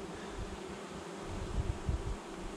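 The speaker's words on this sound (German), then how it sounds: "Die Bienen schmeißen wir weg. Die können ja fliegen." Honeybees buzz steadily around an opened beehive during an early-season colony inspection, a dense close hum with a few louder passing swells and faint handling noises.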